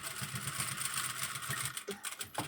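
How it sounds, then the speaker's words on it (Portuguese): Sewing machine running steadily as it stitches a seam on a women's dress shirt, a fast even mechanical chatter close up, pausing near the end with a couple of short bursts. "vamos costurar até o final aqui."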